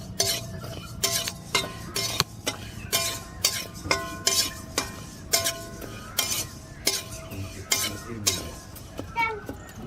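Fifty grams of mung dal is dry-roasted in a hot wok, with a spatula scraping and clinking against the metal in a steady rhythm about once a second, loud and close.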